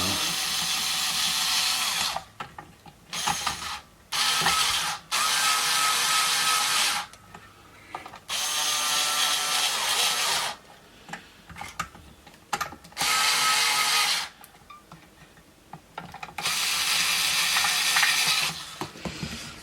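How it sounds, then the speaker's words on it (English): Strings being tightened on a 1960s Futurama 2 electric guitar: several loud bursts of mechanical ratcheting and whirring, each lasting a second or two, separated by short quiet gaps, with no talking. "I'm just going to tighten the strings up and see what we got."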